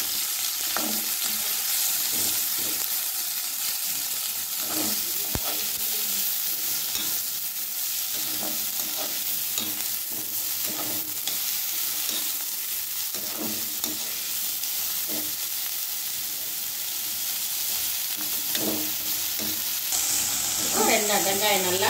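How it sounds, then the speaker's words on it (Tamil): Chopped onions and curry leaves sautéing in a pan for thavalai adai batter, a steady close sizzle broken by repeated scraping stirs, with a brief voice near the end. "வெங்காயம் நல்லா வதங்கிச்சு"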